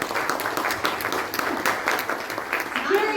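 Tepid applause from an evening show audience, a moderate wash of clapping that persists for a few seconds with some scattered voices mixed in.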